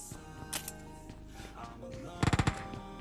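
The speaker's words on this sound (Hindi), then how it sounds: "बस अब गन फाइट सुनो।" Gunfight in PUBG Mobile (KR version) on the Severny map: a quiet stretch with faint game sounds, then a tight burst of four or five loud rapid gunshots near the end, with muffled background noise throughout.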